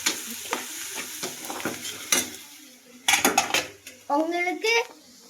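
Pot and utensils clatter and scrape in a home kitchen while pasta is served, with bursts of metallic clanking and stirring, close and fairly loud, between stretches of quieter handling and a voice.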